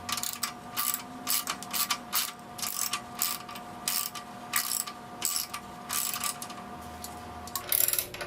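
A socket ratchet clicking in rapid repeated bursts of strokes on a 1969 Honda CL160 motorcycle, close and crisp, with short pauses between the runs of clicks.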